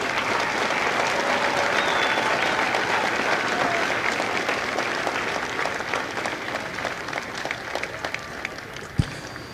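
A large crowd at a Marine Corps recruit graduation ceremony at MCRD San Diego applauds in a long, steady roar of clapping that gradually thins, with a sharp thump near the end.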